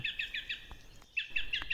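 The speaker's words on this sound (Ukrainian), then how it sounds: "Давайте послухаємо, як вони співають." Small birds sing a quick run of repeated bright chirps, pause briefly, then resume the same rapid chirping, close and clear with no talking.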